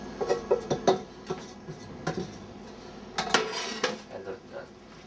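Ingredients mixed and tossed together in a bowl with a utensil, giving a run of quick, close clinks and knocks in bursts, louder at the start and again midway.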